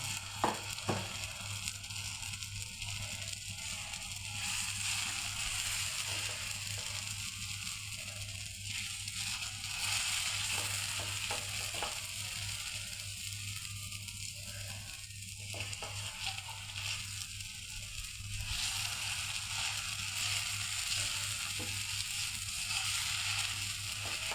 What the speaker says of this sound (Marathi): अशा पद्धतीने आपण पूर्ण तेल लावून झालेलं तर आपण बेटर सोडू जे बनवलेलं आहे ना टाकू